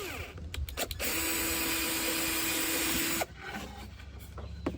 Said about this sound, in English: I want to drill into the table.